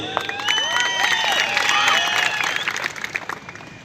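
A rally crowd claps and cheers, a dense wash of applause with rising shouts and whistles that swells, holds, then thins out toward the end.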